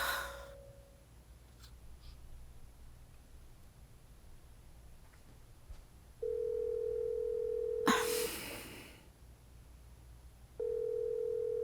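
An unanswered phone call rings out in long, steady electronic tones, each a few seconds long with a pause between, over quiet background with faint breathing and a short burst of noise in between.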